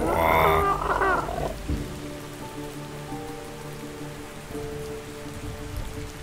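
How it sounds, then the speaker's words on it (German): Steady rain falls in the video game Ark Survival Ascended, a dense, even hiss of drops on surfaces. A louder, brief burst of game sound opens it, then the rain continues alone. "Also der Regensound ist echt gut."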